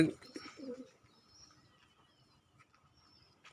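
Pigeons coo softly at close range, a few low throaty calls at the start fading into quiet with faint bird sounds.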